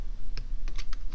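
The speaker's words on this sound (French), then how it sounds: "je bouge avec la flèche du clavier" Computer keyboard arrow key pressed repeatedly, five or six quick close clicks in just over a second, with no talk.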